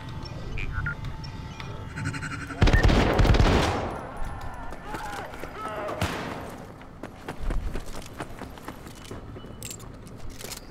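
Pistol gunfire in the PC video game Syndicate: one loud, broadband burst of shots stands out, followed by softer, scattered impacts and clatter among ongoing game noise.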